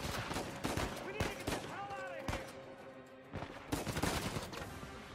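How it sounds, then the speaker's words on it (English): Shotgun fire in Uncharted 4, several sharp blasts spaced irregularly over busy game sound, with a voice talking in the background. "these shotguns are so cool, you know? Like, one shot dead."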